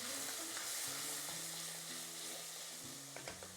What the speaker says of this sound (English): give that a nice stir in the pan.